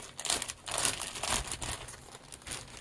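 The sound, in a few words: plastic bag taped shut being opened, crinkling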